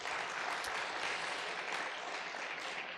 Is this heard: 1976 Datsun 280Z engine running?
no